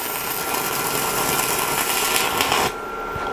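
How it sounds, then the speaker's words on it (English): A stick welding arc on steel window bars crackles and hisses in a steady, bright buzz that cuts off abruptly near the end. "I've got carried away welding into the clamp."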